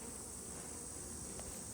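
Honey bees hum steadily in a dense, continuous buzz at an opened hive, close and even throughout the short stretch, with no voices.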